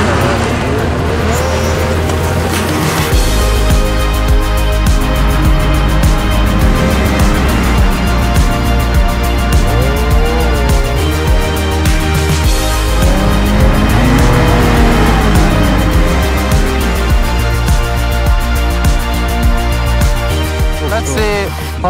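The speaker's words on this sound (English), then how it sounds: "Snowmobile 101. Here is the throttle. Yes, just keep it flat." A snowmobile held at full throttle while being driven through deep snow, its engine whining loudly and steadily for the whole stretch with voices over it.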